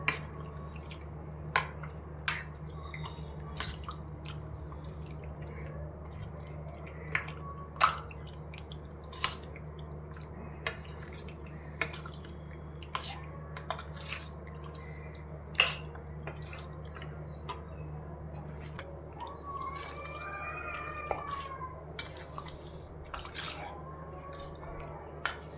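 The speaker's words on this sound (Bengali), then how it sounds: "এবার এটাকে হালকা হাতে ভালো করে মেখে নিতে হবে।" Hands mix loitta fish with dried red chilli paste, giving soft wet squelches and sharp sticky clicks at irregular intervals over a low steady hum, with no talking.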